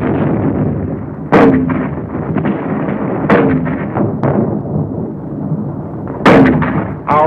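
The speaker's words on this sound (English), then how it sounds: "Our own artillery was brought to fall within 100 yards of our front line elements." Artillery fire in the World War II battle of San Pietro, Italy: a steady roar of battle punctuated by several loud, sharp blasts and booms at irregular intervals, with no voices.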